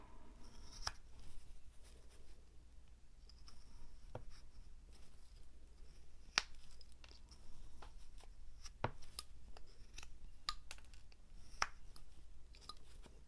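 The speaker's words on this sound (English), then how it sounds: "We'll just kind of make a V cut like this." A knife carving V cuts into wood for a caricature figure, quiet close scraping and slicing with scattered sharp little snaps over a soft background hum, no talking.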